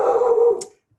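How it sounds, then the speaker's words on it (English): A dog barks close by during an online talk, one loud sustained bark-like burst in the first half second that trails off into near silence. "I apologize, that's my dog."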